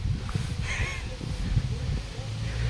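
A flock of ducks approaches while being fed, a few raspy calls and quacks rising over a low rumbling background, fairly close but partly masked by noise.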